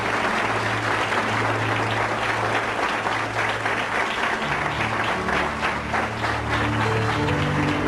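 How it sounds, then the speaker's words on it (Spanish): A congregation at a church service claps steadily and loudly, a dense wash of applause holding for the full length with a few faint voices mixed in. "Denle un aplauso a Cristo,"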